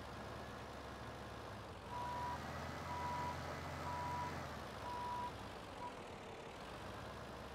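A truck's reversing alarm in Farming Simulator 17 gives about five evenly spaced beeps over a steady, low engine idle, with no talk.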